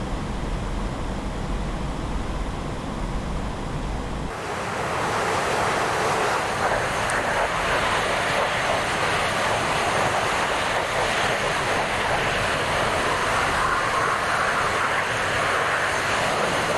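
Fixed-wing aircraft engine drone in a flight video game during a roughly 15-degree climb, a steady broadband roar with a wind-like rush that swells after the first few seconds and holds loud to the end.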